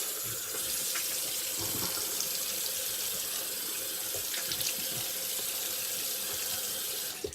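Tap water running steadily into a sink while rinsing during a shave; a continuous close splashing gush with small clinks of handling, ending as the flow shuts off.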